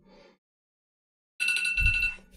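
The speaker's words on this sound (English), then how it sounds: "alarm." An electronic alarm rings in a short burst, goes silent for about a second, then rings again loudly with a bright, buzzing tone and a dull low thump underneath.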